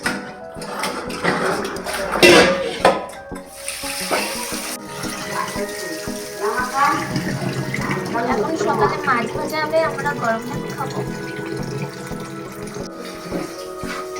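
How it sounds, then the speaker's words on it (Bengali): Pomfret fish are washed under running tap water, giving a splashing, gurgling flow with clatters of handling, and a voice talks over it. "মাছ ধোয়া হয়ে গেছে"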